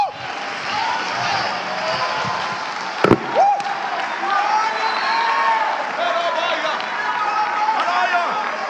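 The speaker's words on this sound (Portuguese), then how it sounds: "Jubila com essas palmas" Congregation clapping during church worship, a dense sustained patter of many hands mixed with crowd voices and singing, with a sharp bang near the middle.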